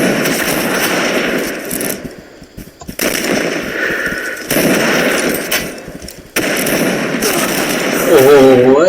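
Video game gunfire rattles in loud, sustained automatic bursts broken by short pauses, with a voice rising briefly near the end.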